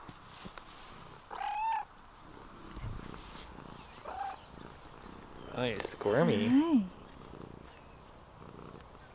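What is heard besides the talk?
cat purring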